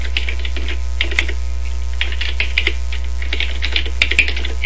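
Rapid typing of a web address on a computer keyboard, a steady run of close, crisp key clicks over a constant low electrical hum, with no talking.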